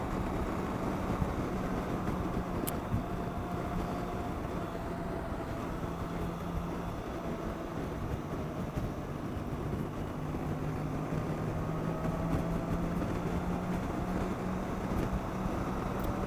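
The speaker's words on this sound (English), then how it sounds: "Like I said, it's a 6-cylinder, so of course I'm going to love this engine." A BMW K1600B motorcycle's inline six-cylinder engine drones continuously at a constant pace, a smooth low rumble with no pauses and no voices over it.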